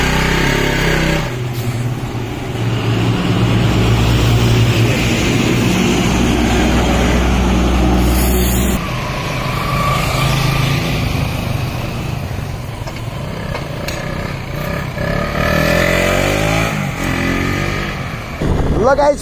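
A restored KTM Duke 200 motorcycle runs with a loud, close engine hum that holds steady, then rises and falls with repeated revs.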